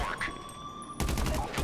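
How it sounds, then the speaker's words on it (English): Gunfire and rockets aimed at the player in Grand Theft Auto Online during a facility mission: a steady electronic tone runs at first, then a sudden burst of rapid shots breaks in loud and close. "They're shooting rockets at me."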